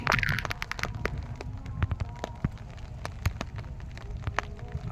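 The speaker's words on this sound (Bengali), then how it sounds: "আজ বৃষ্টি হচ্ছে খুব এখানে কখনো কখনো বৃষ্টি বেড়ে যাচ্ছে আবার কখনো কমছে" Heavy rain near a coal unloading site for a power station, falling as dense patter with scattered sharp drops and splashes close by, steady throughout with no talking.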